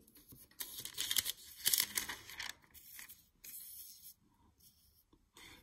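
Tracing paper is handled, rubbed and crinkled close up during a geometry rotation task, with irregular bursts of rustling and scraping separated by short pauses.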